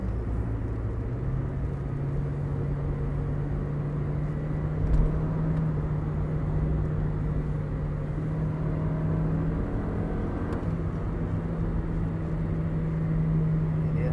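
A 2018 Toyota Yaris TRD with a CVT gearbox drones steadily from inside the cabin, a low engine hum that dips and shifts briefly mid-run while downshifting, continuous and moderately loud with no talk.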